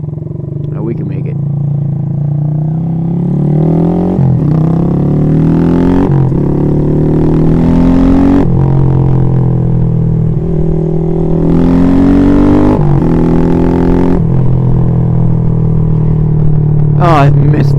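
A Honda Grom motorcycle with a light clutch is ridden and accelerates through several gears, its loud buzzing engine rising in pitch, dropping at each shift and climbing again, close up with wind noise.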